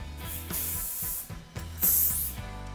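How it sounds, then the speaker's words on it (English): Hairspray hisses from an aerosol can onto a finished half updo in several short bursts, close and fairly loud, with a low hum running underneath. "just finish off with a little bit of hairspray"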